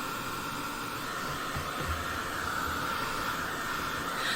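A hair dryer drying acrylic paint blows with a steady, loud whooshing hiss that stays even throughout.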